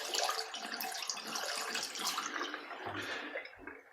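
Hot water running from a shower, a steady close hiss and splash that continues throughout at moderate level with no voices.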